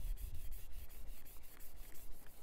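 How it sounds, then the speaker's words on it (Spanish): Sandpaper scrubbing across a varnished Sega Game Gear shell to dull its gloss, a close, rhythmic back-and-forth rasping in quick repeated strokes with no talking. "Ahora tenemos que rayarla. La vamos a volver a lijar."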